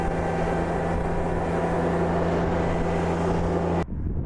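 A Yanmar compact tractor engine runs in reverse with a steady, loud diesel drone and constant hum, then cuts off abruptly near the end.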